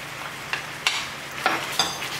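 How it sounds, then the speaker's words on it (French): Beef and bok choy being stirred in oyster sauce in a pan, with a few short scraping stirs of the utensil standing out over a soft, steady sizzle. "On mélange bien le tout."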